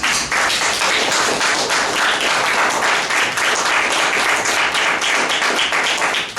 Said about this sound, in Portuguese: Aplauda Jesus, porque é verdade.